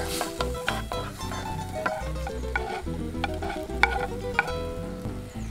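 Chopped onion and green pepper frying in a pan while chicken livers or gizzards are prepared, steady close sizzling broken by repeated scraping and clacking of a stirring utensil against the pan.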